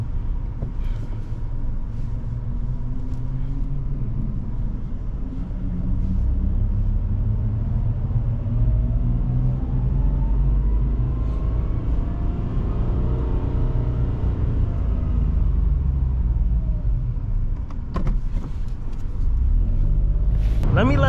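Loud steady roar of wind and road rumble inside a moving 2022 Mitsubishi Mirage G4, low and continuous, with a voice talking over it at times.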